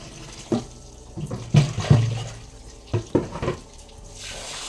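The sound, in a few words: running tap water while washing hands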